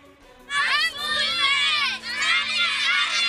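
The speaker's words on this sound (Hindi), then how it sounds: "जनूबी वजीरिस्तान में स्कूल की बच्चियां नारे लगा रही हैं तालीम हासिल करने के लिए।" Schoolgirls chant slogans together at a protest in South Waziristan, a loud, close crowd of young voices shouting in unison in two sustained bursts with a brief pause between them.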